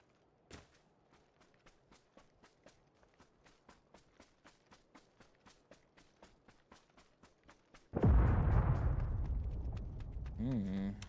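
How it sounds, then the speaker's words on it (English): A C4 charge explodes in PUBG, a sudden loud blast near the end that booms and rumbles on, coming after a long stretch of steady running footsteps. "He just killed that guy with a C4."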